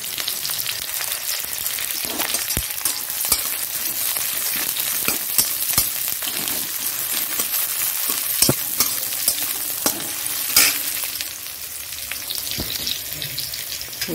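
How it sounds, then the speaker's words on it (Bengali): Onion frying in oil in a pan during preparation of a bitter gourd and potato dish, a steady close sizzle with crackling pops and occasional stirring scrapes throughout, no talk. "এখানে তেল দিয়ে দিয়েছি, তেলের মধ্যে একটু পেঁয়াজ দিয়ে দেব"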